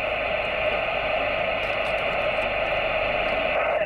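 Scratchy, hissing static fills a CB radio transmission on a Sirio 827 with an Astatic Road Devil antenna, a steady broadband crackle running unbroken and fairly loud throughout.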